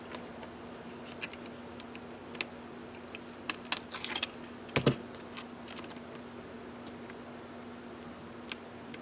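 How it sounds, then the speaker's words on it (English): A quarter-inch corner chomper punches the edges of planner tabs, making a few sharp, close clicks and crunches scattered over a quiet background, with the loudest burst near the middle. "I'm not liking the way my quarter inch chomper does it"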